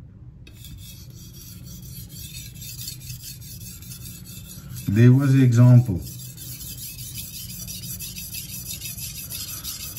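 A knife is drawn across a sharpening stone in soft, steady rasping strokes, faint and continuous, briefly covered by someone speaking a short phrase midway.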